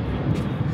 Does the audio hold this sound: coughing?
no